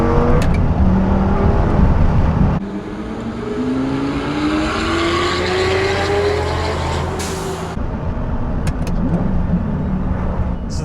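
A Lamborghini Gallardo with a gated manual gearbox being driven on a rough road, its loud engine close by rising through the revs, dropping at a gear change, then climbing again.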